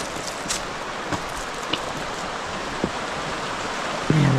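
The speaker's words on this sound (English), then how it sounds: "Let's see what we got up here with the slow moving water." Slow-moving, spring-fed stream water at an Arizona campsite, a steady close wash of trickling flow with a few soft drips and splashes standing out, and a brief low knock near the end.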